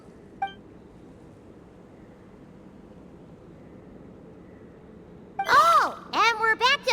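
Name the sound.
beeping machine voice in the video game Genshin Impact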